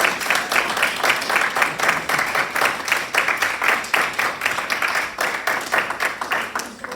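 An audience claps through an evening lecture's closing thanks, a dense, steady patter of many hands that holds at an even level from start to finish with no talk over it.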